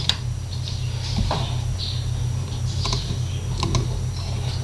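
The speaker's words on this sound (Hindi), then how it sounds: "मैं राइट क्लिक करके इसको रीनेम करने की कोशिश करता हूँ" Typing on a computer keyboard to rename a folder: a short run of light, irregular key taps close by over a steady background hum.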